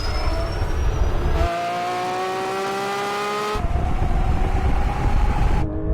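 A Porsche 911 GT3 RS launching from a standstill at a drag race start, engine screaming loudly and climbing in pitch through quick gear changes, heard close over a steady roar.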